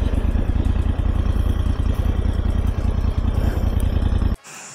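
A Moto Guzzi NTX 1200 adventure motorcycle idles up close with a steady, loud, rhythmic low thrum that pulses evenly throughout, then cuts off abruptly near the end.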